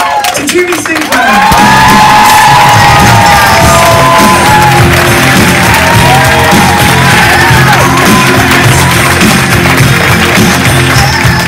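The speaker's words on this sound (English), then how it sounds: "So can we give a massive, massive round of applause to Judy Sinclair?" Loud cheering, whoops and applause from an audience at a staff awards ceremony, with shouts rising over dense clapping in a sustained roar right after a brief opening sound.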